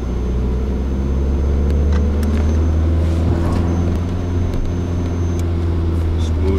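A car's engine drones loud and steady throughout a DEKRA test run while accelerating to 50 km/h, with a deep low rumble and a little clatter on top.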